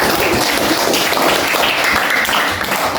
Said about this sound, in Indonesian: Tepuk tangan untuk ucap